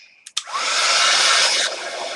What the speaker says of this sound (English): let me dry that with the heat gun